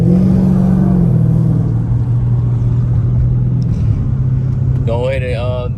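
A car with a 392 engine and headers roars loudly as it accelerates through the gears, a sustained close engine drone with one clear shift partway through; a voice speaks briefly near the end.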